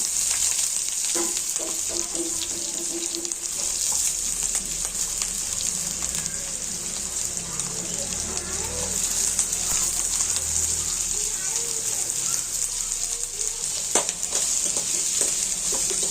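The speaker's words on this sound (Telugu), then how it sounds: "ఇది మంచిగా బ్రౌన్ కలర్ వచ్చేదాకా వేయించుకోవాలి." Onions and curry leaves fry in a pan of oil for a chicken curry, giving a loud, steady sizzle that runs unbroken throughout, with occasional faint clinks and stirring scrapes.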